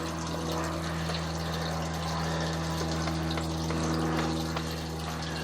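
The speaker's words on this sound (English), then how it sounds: "we're just going to utilize this water to help us push all the way out into our city sewer tie-in" Water pushed through a sewer line during a camera inspection of the run out to the city sewer tie-in: a steady, loud rushing flow over a constant low mechanical hum, unbroken throughout.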